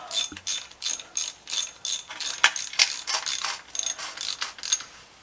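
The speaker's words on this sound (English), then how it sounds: "Popping is the pan being brought down, and it's just popping on the threads of the bolts." A car transmission pan being lowered off its bolts makes a run of sharp metallic pops and ticks as it slips over the bolt threads, irregular and repeated, close up with no talk.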